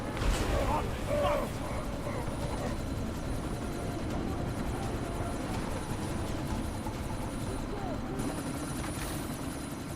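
Helicopter in the Deus Ex: Mankind Divided video game, a continuous loud rotor and engine drone with a thin high whine running throughout, mixed with game combat sounds and voices talking over it.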